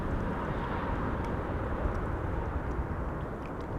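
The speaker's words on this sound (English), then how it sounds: "this is British Airways, of course. The Retro A319." A British Airways Retro-liveried Airbus A319 arriving at windy Amsterdam Schiphol Airport, a steady broadband engine roar with wind rumble, loud and continuous throughout without a break.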